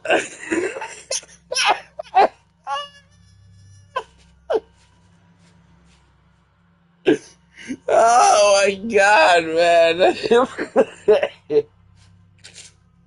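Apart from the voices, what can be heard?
coughing from a cold while laughing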